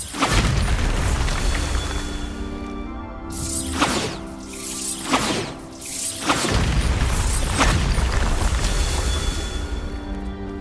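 Booming explosive blasts from the Bombarda spell in Hogwarts Legacy, several loud bursts spaced a second or two apart over a dense, rumbling game backdrop, with no voices.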